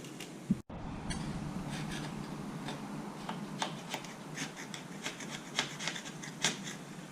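An old gasket is scraped off a Honda Spada VT250FL motorcycle engine cover, with repeated raspy scratching strokes and faint clicks, close and steady, after a brief sharp knock at the start.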